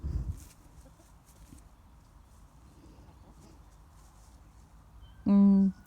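A quiet outdoor scene, then a loud, close call from a rooster among a mixed flock of hens bursts out near the end.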